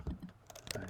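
Quick, light keystrokes tapped on a computer keyboard during a live coding session, a short close burst of clicks over faint room noise.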